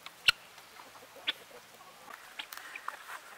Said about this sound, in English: That big rooster way back there.